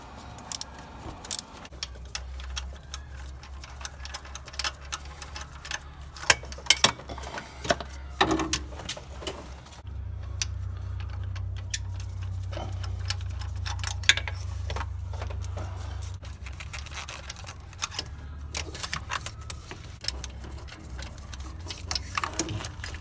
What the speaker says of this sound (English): using our spark plug socket and a 6/8 extension, we can go ahead and remove these plugs